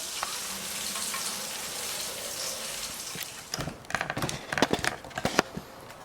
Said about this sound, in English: Gotta make sure it's frying though, because it's gonna be on the skillet for just like less than a minute.